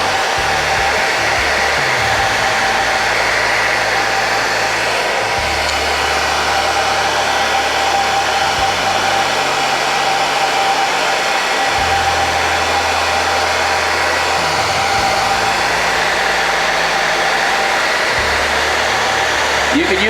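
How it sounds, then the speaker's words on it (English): Steady, loud hair dryer blowing hot air onto the dented plastic bumper of a car, a constant whooshing hiss that runs the whole time, with a faint low engine-like hum shifting underneath. "So the hair dryer is slower, but the less chance of it going too much"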